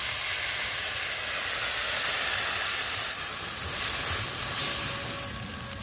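Steady loud hiss and sizzle as water is poured onto fried mourola fish in a hot pan, a continuous close steaming rush with slight swells and no voices.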